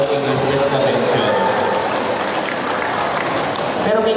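Senior citizens at a community thanksgiving gathering clap loudly in a steady burst of applause, with a speaker's amplified voice talking over the clapping throughout.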